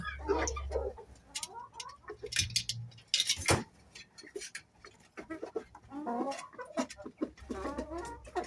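A Rhode Island rooster and hens clucking close by on a small backyard flock farm, a run of choppy, irregular clucks and calls with a few sharp bursts, while someone talks over parts of it.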